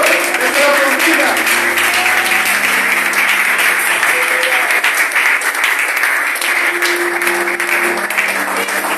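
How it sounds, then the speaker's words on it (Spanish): A church congregation applauds in a sustained, dense wash of clapping that stays loud and even throughout, with voices calling out over it. "Un aplauso a Cristo."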